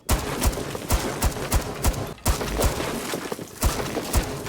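Powerful gunfire in the tactical shooter Rainbow Six Siege, a series of sharp, evenly spaced shots repeating rhythmically across a few seconds, loud and close with little talk.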